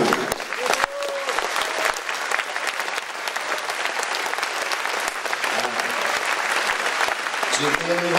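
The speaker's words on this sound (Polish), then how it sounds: "Gorące brawa." Warm applause from a concert audience at a patriotic performance honoring the Polish Army, a steady dense wash of clapping lasting throughout, with a few faint voices and calls rising above it.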